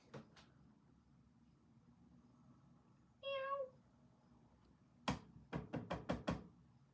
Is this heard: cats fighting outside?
yes